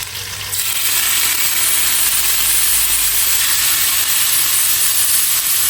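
Prawns fry in hot oil in a pan, a loud, steady hissing sizzle that starts abruptly and carries on evenly, close by with no voices.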